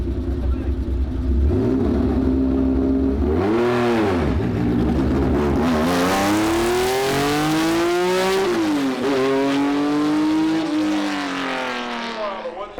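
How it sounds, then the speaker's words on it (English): Race cars at Laguna Seca launch and climb the hill, engines rising and falling in pitch through several loud revving sweeps and gear changes, close and powerful, with a voice speaking faintly in the middle. "We're back at the track at Laguna Seca and we're watching some cars race up the hill."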